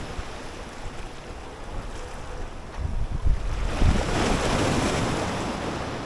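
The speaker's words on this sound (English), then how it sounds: "we're getting some funky splash here" Ocean waves wash and splash against wet rocks on the shore, a continuous surging hiss with a few heavier thumping splashes midway, accompanied by wind buffeting the microphone.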